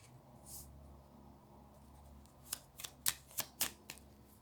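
Tarot cards are handled and drawn, first a soft rustle and then a quick run of crisp snaps and slides as cards are pulled and laid down, close and quiet, with no talk.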